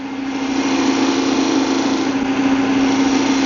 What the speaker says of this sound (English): We can do a V-notch with our skew chisel, which we've done before.